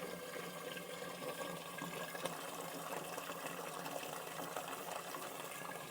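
Faint, steady splashing of water pouring into a cooking pot, a continuous soft trickle with no talking.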